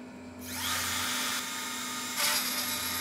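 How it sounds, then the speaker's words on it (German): A lathe cutting a chamfer on a metal part for a mechanical door lock: a steady machine hum with a bright, continuous cutting hiss that swells as the tool engages and grows louder again near the end, with no talking. "Bringen eine Phase an."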